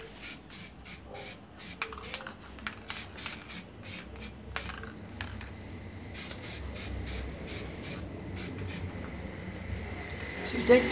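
A spray paint can hisses in a long series of short bursts over cement vases cast in milk-carton molds, the sprays coming close and steady while someone talks in the background.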